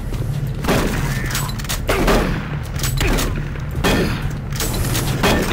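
Repeated shotgun blasts in Doom 3, heavy booming shots roughly every second and a half, loud and close over a dense low game rumble with no talking.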